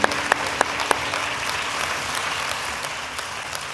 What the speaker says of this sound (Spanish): por favor un aplauso a los ponentes del panel